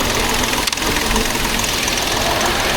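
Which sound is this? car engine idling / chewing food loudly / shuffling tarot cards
car engine idling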